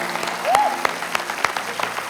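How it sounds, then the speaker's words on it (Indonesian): A church congregation applauding during an online service sermon, a short burst of scattered, uneven claps with a faint voice in the room. "tepuk tangan saudara, ayo berikan yang terbaik"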